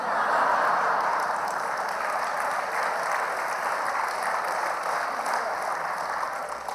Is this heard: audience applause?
yes